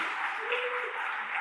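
A congregation at a Pentecost church event claps together in a sustained, even round of applause, crowded and moderately loud throughout the short stretch.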